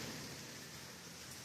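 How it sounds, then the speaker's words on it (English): Light rain falls outside a screened back porch of a home during a thunderstorm, a steady soft hiss that holds evenly throughout with no distinct drops or thunder. "As you can hear that sound, it's raining outside."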